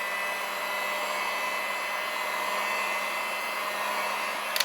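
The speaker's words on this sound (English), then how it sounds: "go ahead and heat it up one last time" A heat gun blows hot air over vinyl wrap on a Traxxas X-Maxx RC truck chassis, giving a steady, even hiss-like roar held nearby for several seconds, with a small click at the end.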